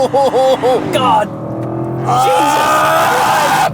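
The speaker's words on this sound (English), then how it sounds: "So you can hear that V8 engine even, oh my God, even louder." A 2024 Audi RS7 Performance V8 with its sound deadening removed revs hard nearby, its rising and falling engine note loud beneath excited exclamations from people inside the car.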